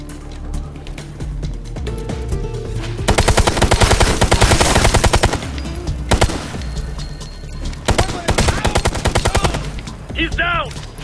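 Heavy gunfire fills a firefight in the video game Ghost Recon Future Soldier, with dense rattling automatic bursts and single shots in loud, repeated volleys, and brief voices calling out amid the shooting.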